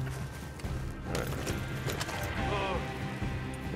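Horse hooves clip-clop in Red Dead Redemption 2 during a moonshiner mission: a steady run of fairly close hoofbeats over a constant game ambience, with a few louder knocks near the middle.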